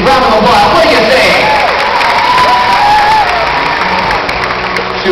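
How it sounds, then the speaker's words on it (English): Crowd at an aquarium show applauding and cheering loudly, a dense roar of clapping and shouts with children's voices mixed in, while an amplified voice talks over it. "a big mouthful deserves a nice big round of applause"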